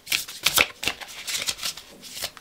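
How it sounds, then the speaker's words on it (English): Oracle cards shuffled by hand during a tarot-style love reading, giving a steady run of crisp riffling and flicking bursts, close and fairly quiet, with no talk. "We're shuffled, but I'm going to shuffle a little more."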